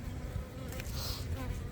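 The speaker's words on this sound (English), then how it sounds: "the fondant is full of bees" Honey bees buzz close up around fondant and a pollen patty during a spring hive inspection, a faint, steady drone with a brief higher whine as one bee passes near.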